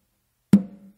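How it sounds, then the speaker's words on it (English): A single muffled right-hand stroke on a tumba conga lands as a short, deep thud that dies away within half a second, heard close and alone. "I'm actually going to do a muff on the tumba with my right hand."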